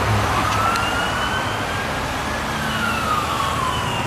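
An ambulance siren wails with slow, rising and falling sweeps over steady, dense street traffic noise, continuous and fairly loud throughout.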